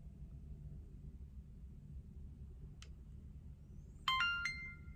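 An Insta360 X3 camera gives a short bright chime as it powers on, a quick cluster of rising tones near the end over a low, steady room rumble, with a faint click just before.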